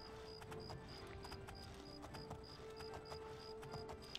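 Horse hooves in the video game Oblivion, a quick regular clip-clop of galloping steps over a dense game ambience with chiming tones, faint and steady throughout.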